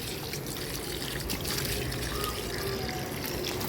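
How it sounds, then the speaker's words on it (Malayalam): Hose water running onto muddy lotus tubers during repotting, a continuous close trickle and splash at moderate level with no break. "ഞാൻ ഹോസ് വെച്ച് ഈ ചെളിയൊക്കെ ഒന്ന് മാറ്റുകയാണ് കേട്ടോ"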